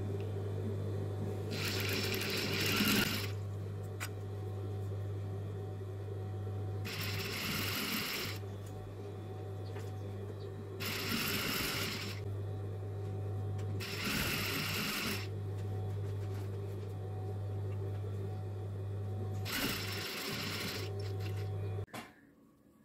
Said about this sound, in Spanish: cosemos con una costura recta hasta la altura del ruedo